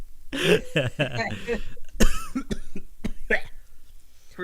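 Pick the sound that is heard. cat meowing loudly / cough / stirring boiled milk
cough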